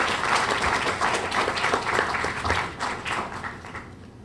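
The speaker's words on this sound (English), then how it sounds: "let's raise a rousing round of applause as I welcome to the podium Dr." An audience at an anti-money-laundering conference applauds a speaker coming to the podium, with dense, sustained clapping from many hands that gradually thins out toward the end.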